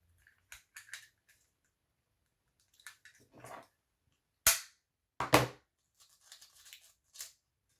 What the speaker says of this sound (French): la perforatrice qui ne veut pas perforer